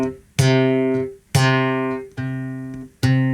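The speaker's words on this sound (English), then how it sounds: "We'll start with the long note. It's called legato." A slap bass guitar plays long sustained legato notes. There are four separate plucked attacks, each held and then left to ring down. The notes are clear, close and alone.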